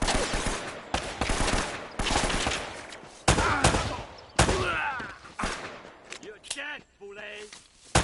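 Gunfire in the video game Uncharted: Drake's Fortune comes as a run of sharp shots at uneven intervals, mixed with game effects and voices, and thins toward the end.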